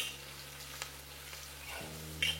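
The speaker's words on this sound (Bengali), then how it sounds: "এই পেঁয়াজটাকে আপনাদের একদম লাল লাল করে প্রথমে ভেজে নিতে হবে" Sliced onions frying in oil with black cumin, a steady low sizzle with a few soft stirring scrapes and a brief louder crackle near the end, no talking.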